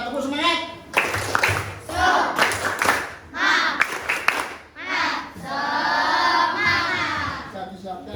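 Indonesian classroom group performing the rhythmic 'tepuk semangat' clapping chant, bursts of patterned claps mixed with loud shouted chanting voices, in short energetic phrases.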